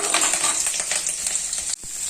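Steady, close sizzling of ginger and garlic frying in hot chicken oil, with scraping stirring sounds and a brief clink near the end.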